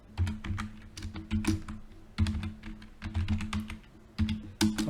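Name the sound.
typing username on computer keyboard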